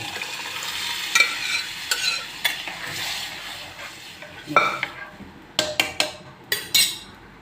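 Continuous sizzling of chana dal in a hot frying pan while a spoon scrapes and stirs, ending in a run of sharper metallic scrapes and taps.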